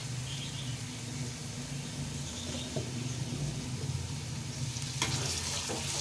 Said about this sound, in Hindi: अदरक लहसुन को भी हम फ्राई कर रहे हैं इसके अंदर